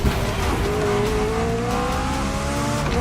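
McLaren Elva supercar driving in The Crew Motorfest video game, a steady engine drone with a rising harmonic pitch as it accelerates, loud and continuous with no pauses.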